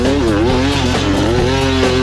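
A cross-trainer dirt motorbike revving hard on an open jungle track, its engine note loud and close and rising and falling through the gears with a rapid rhythmic pulse.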